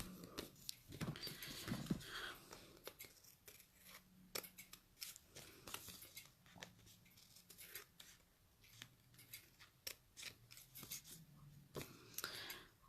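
Scissors trimming the edge of a postcard, a run of quiet, close, repeated snipping cuts in irregular rhythm, with no talking.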